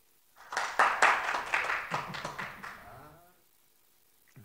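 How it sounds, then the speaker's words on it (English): A few people clapping in a session room, a short burst of about a dozen uneven claps that rises and fades over a couple of seconds, fairly close, with no talk over it. "Somebody's clapping."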